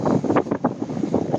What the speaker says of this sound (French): il y a le vent qui fouette